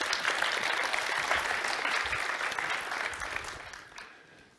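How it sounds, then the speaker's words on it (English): A conference audience gives a dense round of applause welcoming a speaker to the stage. The clapping holds steady, then gradually thins and fades out. "Please give him a big round of applause."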